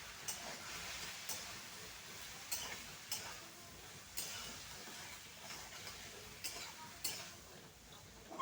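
Spices frying in a pan with ground cumin, ginger paste, turmeric and dry chilli powder, giving a steady faint sizzle with occasional stirring clicks and scrapes throughout.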